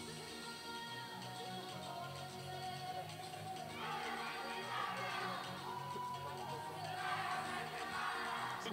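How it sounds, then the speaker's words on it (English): Spectators at a youth archery world championship compound final in Rosario cheer and shout, a steady distant crowd murmur swelling into two louder bursts of cheering, with no one talking over it. "Great crowd support here."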